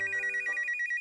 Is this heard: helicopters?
no